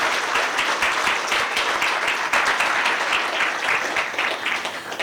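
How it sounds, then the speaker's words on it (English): Sustained, dense applause from a conference audience at a Synopsys keynote event, steady and fairly loud throughout with no talking over it. "I think we should give him a big round of applause for this"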